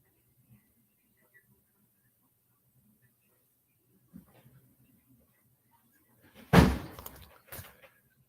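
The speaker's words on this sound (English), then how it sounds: "my door is slamming in the wind." A door banging shut in the wind, one loud slam followed by a smaller knock, after a stretch of near quiet with faint low rumbles and scattered small sounds.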